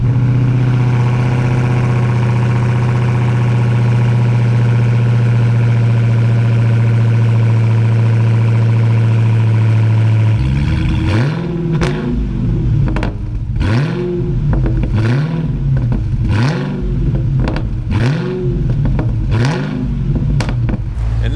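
A stock 2015 Dodge Challenger Hellcat V8 with manual transmission cold-starts, settling into a loud, steady high idle before a series of sharp, repeated revs bark out close by.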